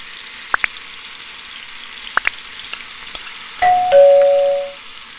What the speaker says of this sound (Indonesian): Setelah minyak panas, masukkan daging yang telah diperap tadi.